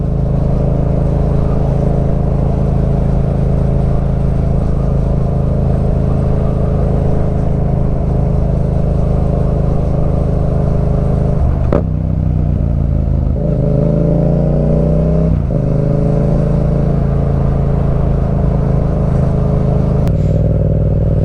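Yamaha MT-07 motorcycle fitted with an Akrapovič exhaust with the baffle removed, riding along a road; a loud, steady engine drone continues throughout, with a brief gear change and revving surge midway.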